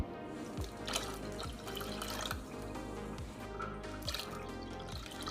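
Water poured into a pot while making soft ice cream after adding UHT milk, a steady liquid splashing and dripping with a few louder splashes, fairly close and without talk.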